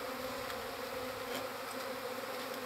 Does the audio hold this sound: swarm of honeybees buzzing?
yes